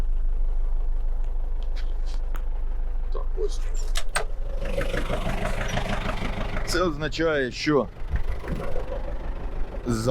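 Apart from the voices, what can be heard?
tractor engine running in a field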